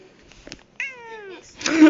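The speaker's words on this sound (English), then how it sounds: "Stop meowing." Cartoonish cat meow from a video game, a single clear drawn-out mew lasting about half a second, preceded by faint clicks and followed by a burst of noise.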